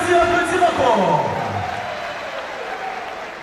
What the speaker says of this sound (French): Il faut du bruit pour le directeur, il faut applaudir encore.